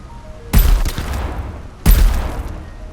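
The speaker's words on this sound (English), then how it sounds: "I've also made a shotgun" Two heavy shotgun blasts from a first-person shooter game, each a sharp loud boom with a booming tail, spaced about a second and a half apart, with no talk.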